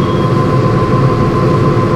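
Majapahit long-distance passenger train running on rails, a steady, loud low rumble with a constant hum and no distinct clacks, heard from on board.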